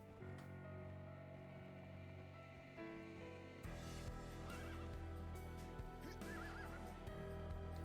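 A horse in a role-playing video game neighs and whinnies several times over a constant ambient wash like rain or surf, the calls rising after a brief shift in the background.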